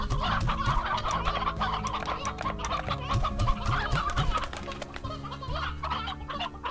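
An Elder Hen in the Slime Rancher video game clucks busily, rapid close chicken clucks and squawks over a low game music bed, with no talking.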